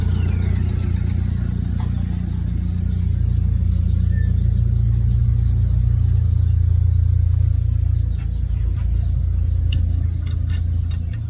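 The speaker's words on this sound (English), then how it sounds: "there's the world's slowest forklift is driving past our shop" A slow forklift rolling past a workshop, heard as a steady low engine rumble that holds at constant loudness throughout, with a few faint metallic clicks toward the end.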